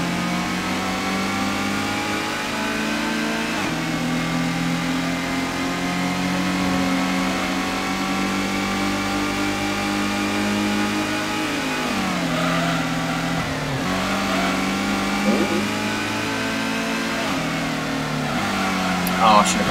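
A car engine in a PlayStation racing game revs and holds steady while driving, its pitch rising and dipping through gear changes and corners. The tone is loud and continuous from start to finish.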